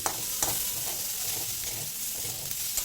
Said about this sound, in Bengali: ডালের সঙ্গেও মশলার সাথে একটু কষিয়ে নেব এক দেড় মিনিট সময় নিয়ে